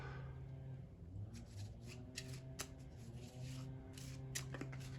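Location cards from the Dark Venture 2nd Edition board game are shuffled repeatedly, crisp riffling bursts and flutters recurring every second or so over a steady low hum.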